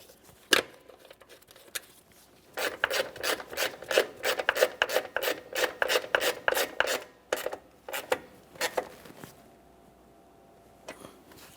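A ratchet clicks in quick rhythmic runs while 10mm mounting bolts are snugged down on a coolant hose bracket of a 2.4L Jeep Patriot engine, close and crisp, tapering to quiet with a few last clicks.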